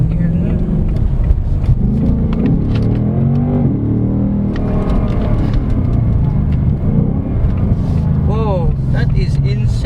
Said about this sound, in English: I love the over rev there once you change down the gear